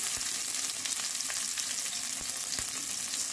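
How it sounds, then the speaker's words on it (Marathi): Ginger pieces and chopped green chillies sizzle in hot oil with a crackling cumin and mustard seed tempering, a steady close hiss punctuated by sharp pops and spits throughout. "आपली जिरी मोहरी छान तडतडली की याच्यात मी टाकून घेते 1 इंच अद्रकचे तुकडे"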